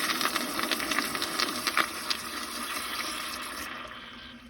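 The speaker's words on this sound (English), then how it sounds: "So here's a partially clogged flush." A 2004 American Standard Cadet pressure-assist Flushmate toilet, partially clogged, flushes with a loud, close rush of water that gradually tapers off toward the end.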